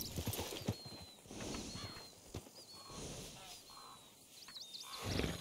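Hooves of a white Appaloosa horse clip-clopping in Red Dead Redemption 2, faint irregular steps on the ground with bird calls in the background and someone talking over them.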